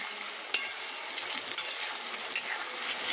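Potatoes are frying in a pan, giving a continuous close-up sizzle with a few sharp clicks of a utensil against the pan, and no talking.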